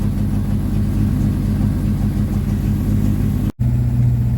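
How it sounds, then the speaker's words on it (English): A 1954 Ford Popular 103e with its choke on runs with a loud, steady low engine rumble, close by, which cuts out for an instant and then carries on running. "First turn of the key, choke on with the old trusty close peg,"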